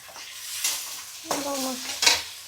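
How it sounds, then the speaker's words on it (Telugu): Green peas, green chilies and vegetables frying in a pan, a soft sizzle with a few sharp clinks and scrapes of a spatula against the pan, close and clear, with no talk. "గ్రీన్ పీస్, పచ్చిమిర్చి కూడా వేసేస్తున్నాం. ఇవన్నీ వేసి వేపిస్తున్నాం."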